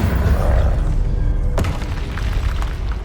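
A spell explosion in the Hogwarts Legacy video game lands as a loud, deep boom with a sharp crack partway through, over rumbling game sound.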